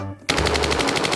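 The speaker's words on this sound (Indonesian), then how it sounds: "mari kita mulai coba tembakan" A toy M16 rifle fires a loud, rapid burst of electronic machine-gun shots that starts abruptly after a brief quiet moment and carries on as a steady rattling stream, close and alone.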